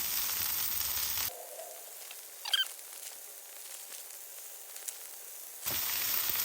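Smash burgers on a Blackstone griddle give a loud, broad sizzle at the start and again at the end. Between the two bursts there is a near-silent gap with a few faint clicks.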